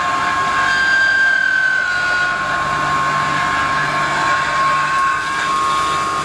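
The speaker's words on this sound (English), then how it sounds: "We're going down over ½ an inch. So that's a big cut, but it's handling it. You hear a little bit of chatter." A milling machine taking a deep half-inch cut, giving a loud, steady grinding roar with a sustained high whine over it, continuous and close with no talking.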